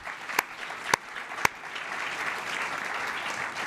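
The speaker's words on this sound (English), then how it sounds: "Please join me in another round of applause for our two governors" Applause for governors Kate Brown and Jay Inslee at a Georgetown University climate and clean energy policy event opens with three sharp, separate claps, then turns into a steady wash of audience clapping.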